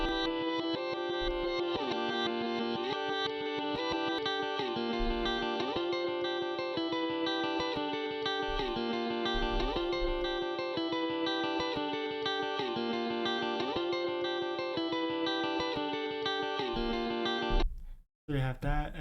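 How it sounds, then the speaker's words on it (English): A guitar riff sample from Logic, a repeating bright distorted figure with chorus and reverb in a steady looping rhythm, loud and alone for most of the passage before cutting off abruptly near the end. "This is just like a guitar riff"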